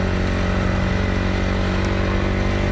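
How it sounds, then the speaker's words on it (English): A Honda CRF450R 450 four-stroke race bike converted to a snowbike idles steadily, its engine making a constant close, loud rhythmic putter with no one speaking. "this is a 450 4-stroke. It's a race bike."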